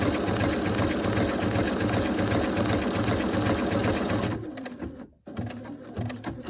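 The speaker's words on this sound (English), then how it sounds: "I'm going to top stitch around these. I'm using a gold metallic thread, it's a rayon, and I'm using a blanket stitch" A sewing machine with a walking foot runs a blanket stitch in gold metallic rayon thread, a steady rapid rhythmic clatter for over four seconds before it stops, followed by quieter handling sounds.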